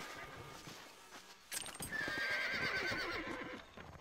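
A horse in the video game Red Dead Redemption gives a loud whinny while being mounted, with hoof clip-clop beneath it, near and prominent over game ambience.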